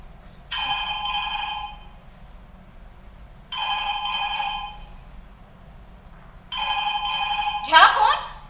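A telephone rings in three evenly spaced double-trill bursts on stage during a Marathi theatre play, moderately loud over a quiet hall, with a brief voice at the end.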